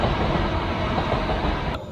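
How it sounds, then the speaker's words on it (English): A train rolls past steadily at a moderate distance, a continuous broadband rumble and rattle of wagons with no talking, heard while out cycling. "There's a train going by."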